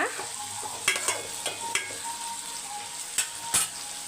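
Onions and medium-sized tomatoes fry in oil in a pan for a brinjal curry, a soft steady sizzle under scattered scrapes and clinks of a stirring spoon against the pan.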